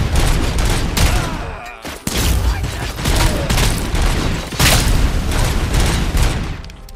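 Sustained in-game gunfire in RoboCop: Rogue City on PC, a dense fusillade of booming shots with brief gaps, loud and continuous throughout, with sharp transient spikes around 1, 2 and 4.5 seconds.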